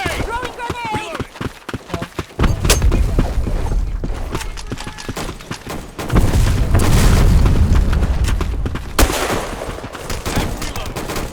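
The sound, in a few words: grenade explosion in the video game Black Squad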